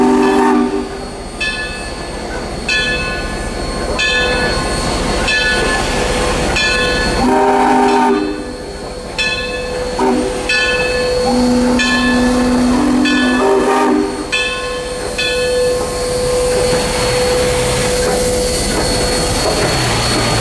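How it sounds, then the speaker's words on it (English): Great Smoky Mountains Railroad steam locomotive 1702 uncouples from its train at Bryson City station and moves off. Heavy rumbling, clanking and steam hiss run loud and close throughout, with a horn-like tone sounding partway through. "the 1702 uncouples from its train to move into its overnight staging spot"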